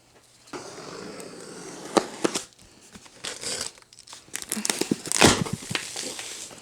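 A knife slices into a large cardboard box holding a Juki TL-2010Q semi-industrial sewing machine, giving close, irregular bursts of scraping, tearing and crinkling with short pauses between cuts.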